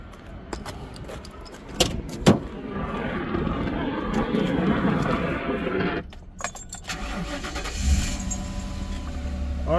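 A 2010 Ford Crown Victoria Police Interceptor with an overheating issue cranks and fires up after some key jangling, settling into a steady idle rumble, close and moderately loud.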